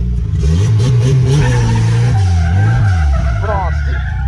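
A Chevette spins out while drifting, its engine roaring loud and steady under a long tire skid and squeal, close by and continuous throughout.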